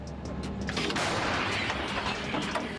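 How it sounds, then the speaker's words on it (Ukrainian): Heavy booming blasts of artillery cannon fire on a war front, loud and close, with a sharp report near the start and a long rolling rumble filling the rest. "Гармата!"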